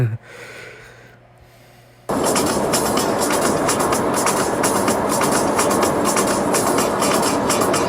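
A freight train rolls past as a steady, loud, broadband rumble and rattle that starts abruptly after a quiet two-second lead-in and holds unbroken to the end, with no talking.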